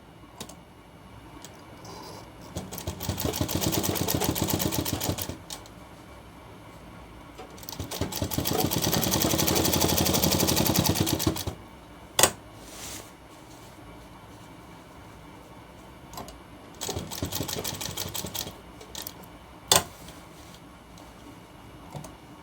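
A sewing machine stitching a shirt hem runs in two long close bursts of rapid rhythmic clatter, then a shorter one, separated by quiet pauses with a few sharp clicks and no speech.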